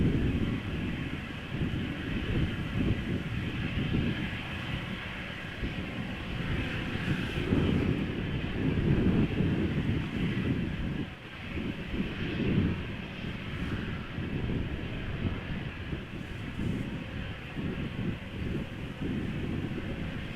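KLM Embraer E190 airliner, 13 years old, at Amsterdam Schiphol, heard as a steady distant jet rumble with a low droning hum and faint higher whine, gently fluctuating, no voices.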